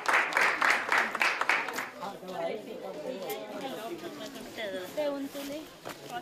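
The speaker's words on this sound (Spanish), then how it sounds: "Un aplauso que llegó." A small group claps in a short burst of roughly two seconds at a community health outreach gathering in Córdoba, Argentina. Lively chatter and talking follow.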